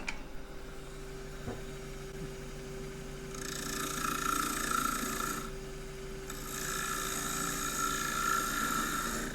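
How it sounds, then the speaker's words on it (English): A dull bowl gouge scrapes and rasps against spinning maple on a lathe, a steady grinding hum with two louder stretches of cutting. "That's the sound of a not particularly sharp gouge."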